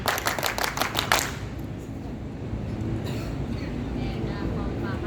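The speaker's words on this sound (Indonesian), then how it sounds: "Tepuk pramuka 1 kali." A group of scout students performs the tepuk pramuka, a rhythmic scout clap, giving a quick run of sharp, loud, evenly spaced claps that stops after about a second, followed by quieter group noise.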